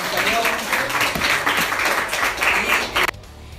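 A school program audience claps in a dense, continuous burst of applause that cuts off abruptly near the end.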